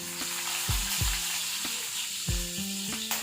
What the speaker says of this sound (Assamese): মই ফাৰ্ষ্ট টাইম ইয়াতে নহৰুখিনি মই তেলতে লৈছোঁ